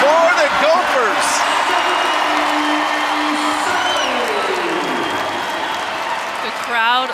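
At a Penn State vs Minnesota volleyball match, a crowd cheers and applauds in a loud, sustained roar under a commentator's voice, with squeaks and whistle-like tones briefly cutting through.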